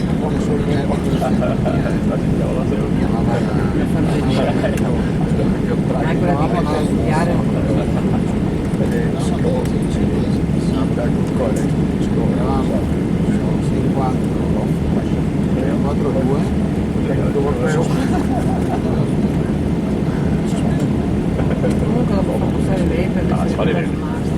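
An airplane taxis onto the runway at Venice, its engine a loud continuous low cabin rumble and drone throughout, with voices talking faintly beneath it.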